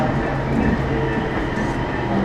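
Inside a moving Gold Line electric train car, a steady rumbling hum of the carriage in motion with faint tonal whine, close and continuous.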